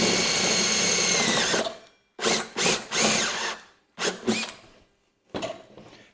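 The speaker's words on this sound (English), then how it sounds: "I'm using a 7/8 inch hole saw to drill the hole because that's what my cable gland requires" Power drill fitted with a 7/8 inch hole saw cutting into a light show sound pole: one long steady grinding whine, then several shorter separate bursts of cutting with pauses between, close and loud.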